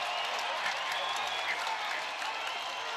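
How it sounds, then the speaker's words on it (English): A hockey arena crowd roars and cheers wildly after a fight during a Jacksonville Icemen versus Atlanta Gladiators game, a dense, continuous wash of noise heard from a distance. "And this crowd is going absolutely berserk."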